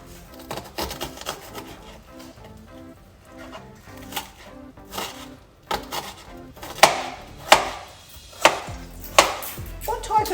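Sharp knife strokes dicing an onion with a Japanese knife on a cutting board, a run of distinct chops that grow louder and more spaced near the end, with a voice briefly under them.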